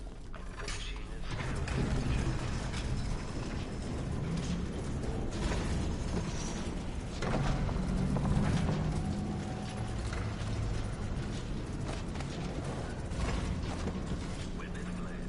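A clockwork machine in Dishonored 2 runs steadily, with ratcheting gears, creaks and mechanical clatter in a continuous dense churn that holds level throughout.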